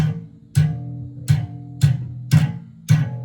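Six evenly spaced, dull bass slaps played with incorrect technique, with a thumpy, muted attack, each note ringing briefly before the next.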